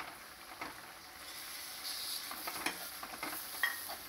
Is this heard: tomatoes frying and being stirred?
yes